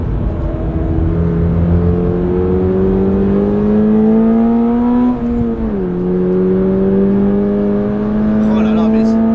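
A Toyota GR86 sports car driven hard, its engine droning loud and steady with a rising pitch, then a short dip as if shifting before it climbs again under a speaking voice.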